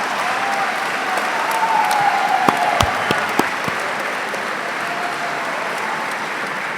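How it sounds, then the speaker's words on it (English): Steady, dense applause from a graduation ceremony audience cheering engineering graduates, filling the hall continuously with a few sharper claps standing out near the middle, no talking. "That was great to cheer all these wonderful graduates."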